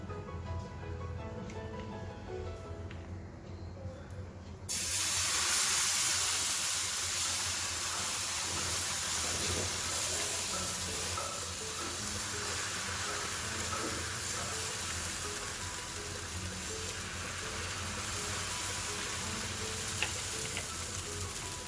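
A quiet room gives way to a sudden, sustained sizzle as rava uttapam batter hits a hot tawa griddle, hissing steadily and close for the rest of the clip.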